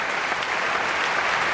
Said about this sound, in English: the capacity crowd appreciating